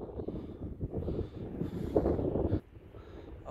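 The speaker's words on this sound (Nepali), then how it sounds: "एकदमै हावा चलिरहेछ" Strong wind blows on a journey to Phalelung, a steady, loud rushing and buffeting across the microphone that swells and drops with the gusts, with no one speaking.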